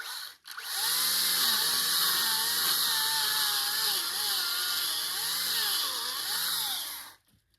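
A power saw runs steadily for about six seconds, cutting off a tree branch outdoors for a fort build, with a loud, continuous high whine and wavering pitch as the blade bites.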